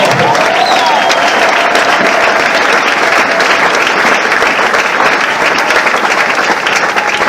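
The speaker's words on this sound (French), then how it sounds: "On peut acclamer les militaires qui sont morts." A crowd at a gathering gives loud, dense applause for fallen soldiers, an unbroken wall of clapping with a few scattered cheers mixed in.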